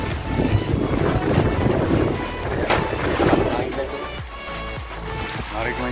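Strong typhoon wind roars and buffets the microphone continuously, a loud rushing noise with gusty swells throughout, during Typhoon Quinta under Signal No. 3 in the Philippines.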